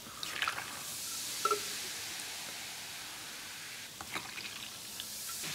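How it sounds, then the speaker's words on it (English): Coca-Cola fizzes and bubbles after fiber powder is added, a faint, steady carbonated hiss with a few soft wet pops and drips near the start and again toward the end. "Oh man, it's bubbling quite a bit."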